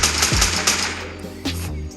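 Rapid gunfire from a video game police chase, a loud burst of machine-gun-like shots with sharp repeated cracks over continuous game noise, alone without talk.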